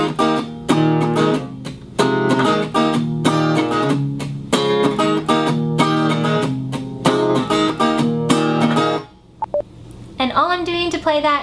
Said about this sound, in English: So with a palm mute it'll sound like this.